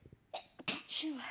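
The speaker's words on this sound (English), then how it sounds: "I'm gonna sneeze." A person lets out a quiet sneeze in a brief build-up of sharp breaths ending in a voiced burst, close and indoors.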